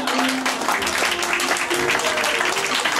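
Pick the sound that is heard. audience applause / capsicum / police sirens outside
audience applause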